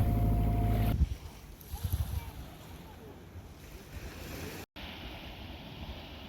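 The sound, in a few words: sailboat taking the sail down, waves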